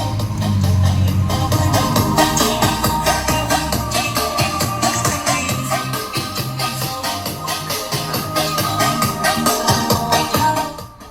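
Loud music playing through a car audio mid-bass speaker on a Honda PCX150 scooter, with a full, punchy low-mid bass, continuous throughout with no speech.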